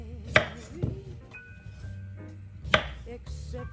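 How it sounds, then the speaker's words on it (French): A knife cuts the ends off courgettes on a board, two sharp close taps about two seconds apart with quiet room sound between them. "Nous allons d'abord couper les bouts des courgettes."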